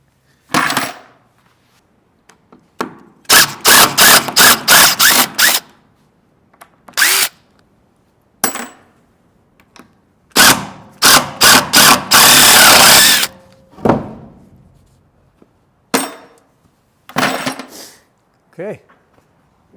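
Power drill drilling out stripped screws on a horse nursery build, in repeated bursts of rapid whirring with short pauses between, loud and close, some runs long and sustained.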